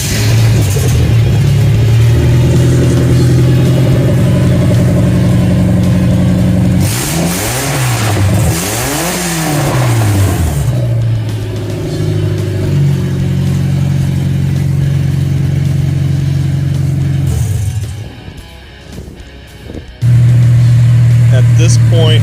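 A rebuilt truck engine fires up for its first start and runs steadily, loud and close, its pitch swinging with several revs before it drops briefly and then settles back to a strong idle.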